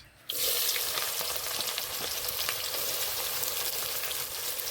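Whole cumin and chopped onion hit hot oil, setting off a loud, steady sizzle that begins abruptly and holds with a dense crackle throughout, no voices present.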